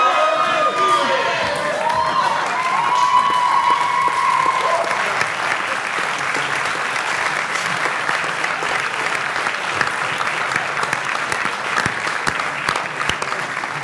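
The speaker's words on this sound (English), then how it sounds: "I love the cheering section" Audience applause with cheering and whoops at a live presentation event, a dense steady clapping wash sustained throughout, with scattered shouts rising over it.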